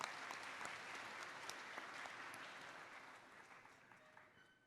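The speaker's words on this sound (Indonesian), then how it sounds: "Tepuk tangan untuk adik-adik kita." Applause from an audience of students at a national congress event with a West Java education official, a dense crackle of many hands, fairly distant and fading gradually toward the end.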